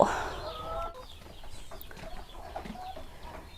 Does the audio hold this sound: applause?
no